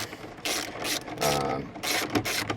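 Ratchet wrench with a 7mm socket turning screws that hold the radio in a Chevrolet Spark dashboard, several short bursts of quick clicking close by, with no talking.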